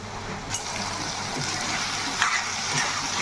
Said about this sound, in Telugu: ఇలా బాగా వేపుకోవాలండి